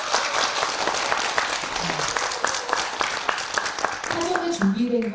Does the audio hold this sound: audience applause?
yes